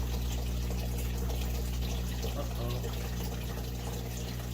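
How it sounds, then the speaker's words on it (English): Air bubbles from a DIY pond bubbler membrane gurgle and churn underwater in a steady stream alongside a constant low pump hum, and one short voice exclamation comes through. "I got a GoPro set up in the pond, so you'll see the bubbles come out of the actual membrane"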